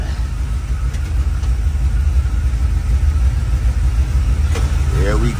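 A loud GM Performance crate 350 V8 engine idles at about 780 rpm with a deep, steady, lumpy rumble throughout, and a voice comes in briefly at the end.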